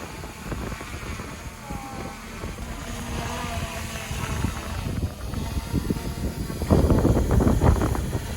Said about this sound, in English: let's see how Amanda does here with this drone.